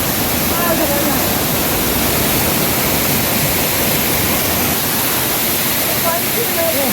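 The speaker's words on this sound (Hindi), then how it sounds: "वो वहाँ सामने देखिए कितना बड़ा झरना है।" A large waterfall swollen with rainwater in the rugged Aravalli hills roars as steady, dense broadband rushing water, loud and continuous throughout with no pauses.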